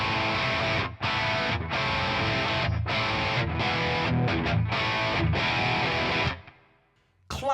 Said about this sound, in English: Classic overdriven sound.